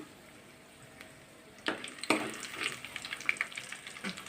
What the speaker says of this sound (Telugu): ఆయిల్ హీట్ ఎక్కిందండి ఇప్పుడు ఇందులోకి జీలకర్ర తాలింపు గింజలు వేసుకుంటున్నాను